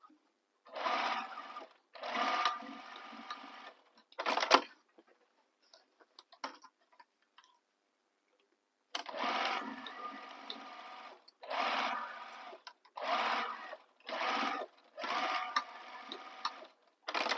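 A sewing machine stitches the side edges of a bag pocket in a series of short, even bursts, with a long quiet pause in the middle before several more runs follow close by.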